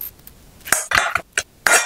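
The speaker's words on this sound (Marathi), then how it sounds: "आता आपण हे काढून घेऊया एका ताटात." Eggs fried in Kolhapuri masala being scooped from a pan onto a plate, with four or five sharp metallic scrapes and clinks of a utensil against cookware, close and distinct with short pauses between.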